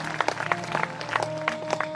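Audience applause at a Shrimad Bhagwat Katha religious gathering in Harda: scattered, uneven clapping with sharp individual claps over a steady musical drone.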